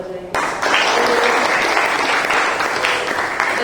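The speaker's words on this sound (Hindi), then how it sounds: "अमित और सुनीता के लिए भी मैं कहती हूँ जोर से ताली बजाइए।" An audience at a church meeting bursts into loud, sustained applause, a dense wash of clapping that starts abruptly and carries on steadily to the end.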